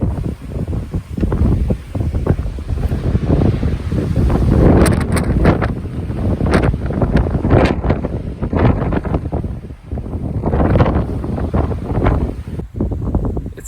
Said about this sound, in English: It's windy. It's windy as windy.